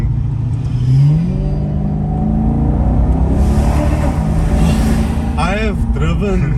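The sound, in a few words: Maserati Quattroporte GTS car engine while driving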